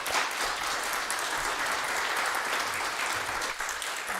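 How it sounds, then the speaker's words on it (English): A crowd at a thanksgiving service applauds to welcome two haegeum players, a thick, continuous wash of clapping from many people that stays full and even from start to finish. "Please welcome with our big applause."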